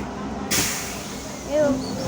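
A Škoda 14Tr trolleybus sets off with a sudden burst of air hiss, and its electric motor whine rises faintly underneath while people talk nearby.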